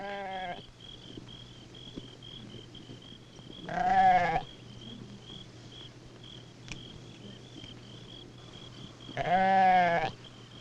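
Goats herded by children in Somalia bleat twice, a few seconds apart, fairly close, against a quiet outdoor background with a faint steady insect drone.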